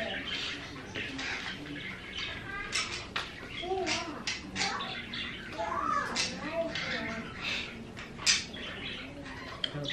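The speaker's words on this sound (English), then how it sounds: "and my birds, of course." Small pet birds chirp and tweet repeatedly in short bursts, fairly close, mixed with a voice and soft talking in the background.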